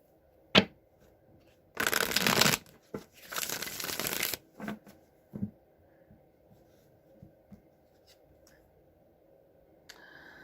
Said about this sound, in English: let's just shuffle a few times, cut the deck, and draw the 3 cards